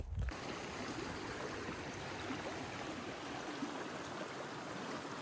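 A mountain stream flows steadily along a trail in the Purcell Mountains, its soft broadband rush continuous and fairly quiet, with no voices over it.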